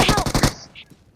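Rapid automatic gunfire in the mobile battle game BGMI, a loud burst of about five quick shots in half a second followed by a fading tail and faint game effects.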